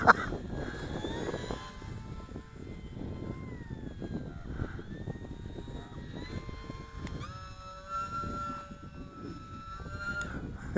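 OMPHobby T720 brushless RC powered glider flying in light wind, its electric motor giving a steady high whine with shifting pitch that rises and falls as it passes, continuous over broad outdoor wind noise.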